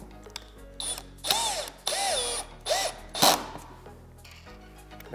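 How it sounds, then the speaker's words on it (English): A power drill driving screws while assembling a standing desk whirs in several short bursts, each revving up and winding down, with quiet pauses between them. "you don't want to have your torque setting up too high on your drill if you're using a power drill"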